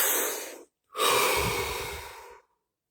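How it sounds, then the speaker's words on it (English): A deep breath taken during a guided relaxation session: a short airy inhale, a brief pause, then a longer, fuller breath lasting about a second and a half, close and clear with no talking. "Take a deep breath."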